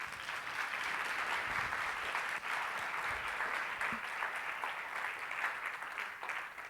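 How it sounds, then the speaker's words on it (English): Steady, sustained applause from an audience at a communication seminar, many hands clapping evenly at moderate volume throughout. "Give her a round of applause."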